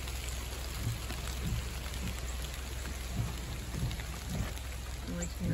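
Rain falls on lake water as a steady, dense hiss with scattered soft patters, and faint voices sit low under it.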